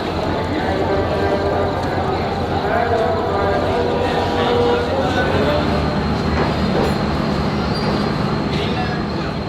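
A long-distance sleeper train pulls into a busy station in Pakistan, a steady rumble and clatter of rail cars with metallic squeals, heard beneath constant crowd chatter and nearby voices on the platform.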